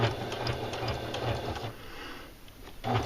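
A sewing machine runs fast and steady, stitching the crotch seam of pajama pants in a continuous close whir that eases briefly before picking up again near the end.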